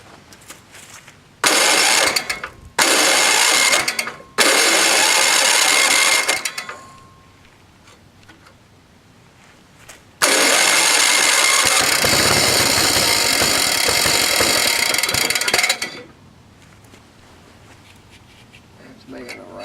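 A rusty vintage snowblower engine revs in loud, rough, rattling bursts. It cuts out between runs and then roars steadily for several seconds, with quieter stretches in between.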